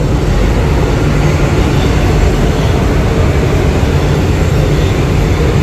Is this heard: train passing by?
yes